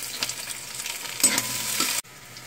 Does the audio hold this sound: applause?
no